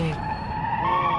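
A car in the BeamNG.drive racing game, one of the Automation-built cars, brakes hard into a corner with a continuous tire screech over the steady engine drone, loud and close for about a second.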